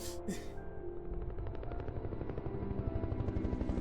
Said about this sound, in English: Get the helicopter!